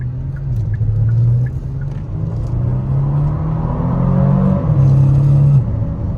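A 2023 Kia Stinger GT2 accelerates hard from inside the cabin, with a loud, steady engine drone that climbs in pitch through gear changes and dips briefly at each shift.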